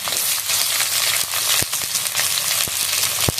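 Chopped onion and green chili sizzling in hot oil in a pan while cooking ghugni, a steady crackling fry with sharp pops and stirring clicks throughout, close and loud, no talking.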